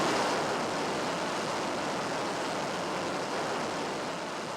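An F-14 jet rolling down the runway on takeoff, a loud, steady broadband roar of engines that holds constant and thins slightly toward the end, with no voices.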